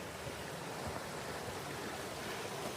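Stream water runs along a hiking trail at Stone Mountain, a steady broadband rush and gurgle, continuous and fairly close, with no voices.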